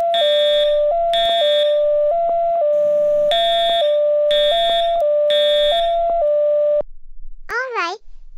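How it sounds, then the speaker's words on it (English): A loud electronic school fire alarm during a fire drill repeats a pulsing two-tone beep pattern, then cuts off, followed by a brief sliding vocal sound. "The alarm stopped."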